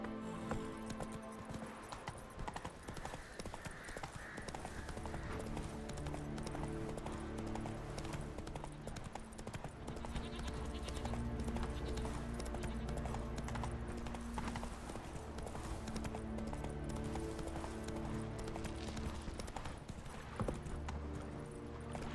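Horse hooves gallop at a steady, fast rhythm in The Witcher 3 game world, loud and continuous for the whole stretch, with layered game music and ambience running beneath.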